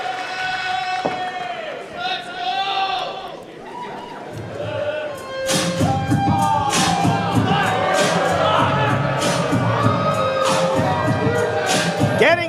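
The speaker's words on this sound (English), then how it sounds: "Listen to this crowd, Righteous Reg." A packed crowd at a West Coast Pro Wrestling anniversary show roars and cheers loudly and continuously, with whoops and chatter rising into a dense wall of noise that swells midway and stays high.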